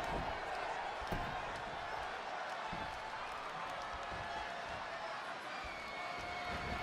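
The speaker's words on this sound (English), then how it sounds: "this Kansas City crowd sounds more than ready for this one" Dense, steady arena crowd noise from a Kansas City audience at an AEW Rampage women's tag-team wrestling match, a continuous roar with scattered slams and claps throughout, no single voice standing out.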